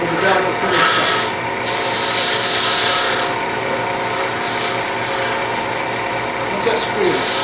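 A skew chisel cuts plywood spinning on a wood lathe, giving a continuous rough scraping rasp with a brief louder burst, while someone talks over it.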